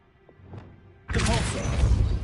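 A spell cast in Hogwarts Legacy: quiet rustles, then a sudden loud magical whoosh and rumbling crash that sustains to the end.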